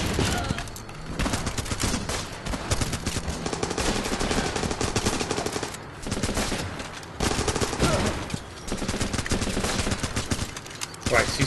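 Dense, continuous rapid gunfire from a video game, automatic bursts overlapping without pause, loud and close with brief dips between volleys.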